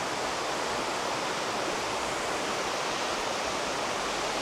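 A river flows near a camping spot in Indonesia, giving a steady, even rush of water that fills the whole clip with no voices.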